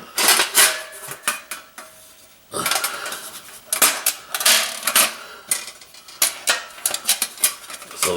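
A BioLite Campstove grill part being scrubbed with steel wool soap pads to clear oil and food, heard as bursts of rough metallic scraping and clattering close by, separated by short pauses.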